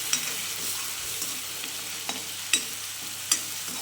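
Cumin and ground masala sizzle in hot oil for batata vada, a soft continuous frying hiss close by with a few sharp clicks of the spoon against the pan.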